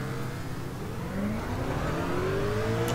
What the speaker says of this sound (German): ich muss meinen Motor starten.